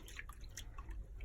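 Water drips softly in a few quick, irregular drops while raw alpaca fleece is washed, quiet and close.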